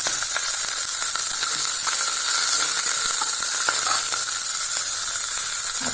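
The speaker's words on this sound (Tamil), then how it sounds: "வெங்காயம், பச்சை மிளகாய் போட்டுடலாம். இந்த கருவேப்பிலையும் போட்டுடலாங்க." Onion, green chilli and curry leaves fry in hot oil for Thanjavur-style sambar, a loud, continuous close sizzle with scattered crackles.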